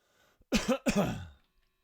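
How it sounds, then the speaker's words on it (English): Two harsh coughs right at the microphone, loud and close, with a brief breath before them and silence after. "Excuse me for that cough near the microphone"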